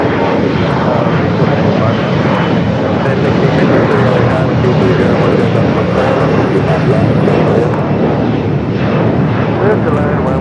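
A Delta Airbus A350 jet departing LAX for Tokyo Haneda roars loudly and steadily throughout, its broad engine rumble filling the air close by.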